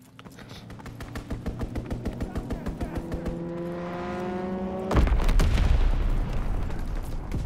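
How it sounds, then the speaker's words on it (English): A strafing run in the Call of Duty: WWII video game: a rapid stream of gunfire pulses over a rising aircraft drone, then a heavy booming impact and a rumbling roar of explosions. "strafing run inbound."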